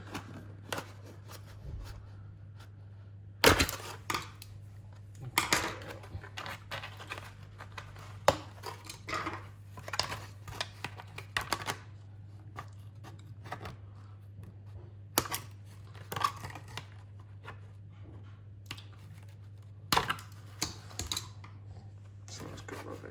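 Scissors or a cutting tool snipping at Traxxas Maxx Slash inner fenders in a close series of irregular clicks and snips, with a steady low hum underneath.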